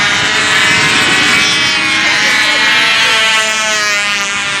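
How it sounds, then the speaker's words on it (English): A small model airplane engine runs at full throttle in windy outdoor conditions, a loud, steady high-pitched buzz that holds without a break throughout. "Getting a good long run out of this little plane here."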